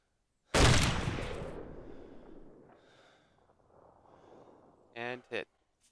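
One loud, sharp sniper rifle shot in Arma 2 cracks up close and rolls away in a long decaying echo. A few seconds later come two short, clipped mechanical clacks.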